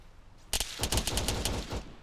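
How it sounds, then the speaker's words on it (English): Rapid automatic gunfire in the ArmA 3 Wasteland game, set in Chernarus, erupts abruptly and rattles on as dense, loud overlapping bursts for over a second before tapering, with no talking. "Yeah, getting shot at."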